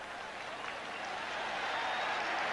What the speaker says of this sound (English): the Bills are applauding